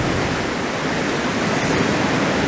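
Sea waves washing in as the tide rises along a coast, a continuous loud broadband rush of surf close by with no voices.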